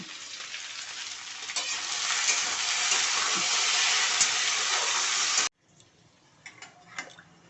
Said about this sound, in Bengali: আলু ভাজা বসিয়ে দিয়ে